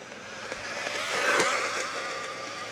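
MJX Hyper Go Citroën C3 WRC RC car drifting on dirt, a thin electric motor whine that rises and swells as it slides past nearby, then eases off, with no talk.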